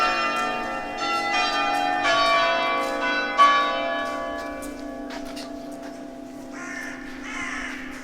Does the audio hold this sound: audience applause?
no